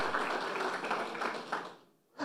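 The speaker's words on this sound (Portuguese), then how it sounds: "Aplauda o Senhor por essa palavra." Church congregation at an Easter Sunday service applauding, a close, dense burst of hand clapping that carries on steadily and then quickly dies away, with a fresh sound starting at the very end.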